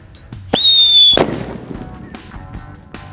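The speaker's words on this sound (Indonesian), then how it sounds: "yang kita nyalakan di sini ada whistling thunder. Sudah menyala guys" A whistling thunder firework, a Ramadan firecracker set off inside bamboo, lets out a loud, shrill whistle for about half a second. A sharp bang follows, then fading crackles and faint background noise.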